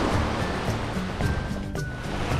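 Sea waves wash onto Cala Sambuco, a crescent-shaped beach on the north coast of Sardinia, as a steady, fairly loud rush of surf with no voices.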